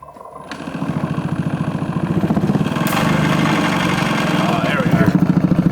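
A homemade shop parts tumbler runs with a steady, rapid mechanical thumping pulse, loud and close, continuing throughout while people talk over it.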